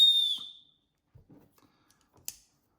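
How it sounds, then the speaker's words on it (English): Whistle built into a Leatherman Signal multi-tool gives one loud, shrill blast lasting about half a second, followed by a few faint clicks and handling noises. "You've got a whistle, quite a loud whistle for the size of it."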